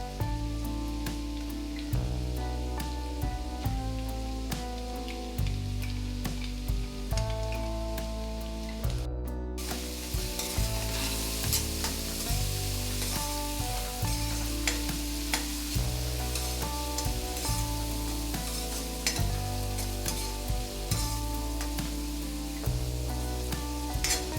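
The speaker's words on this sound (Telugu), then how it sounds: "ముందుగా గ్రైండ్ చేసి పెట్టుకున్న పచ్చిమిర్చి మసాలా వేసి పచ్చివాసన పోయేదాకా బాగా ఫ్రై చేసుకోండి" Ground green chili masala frying in a pan for green egg rice, a steady sizzle with occasional stirring, partly masked by continuous background music.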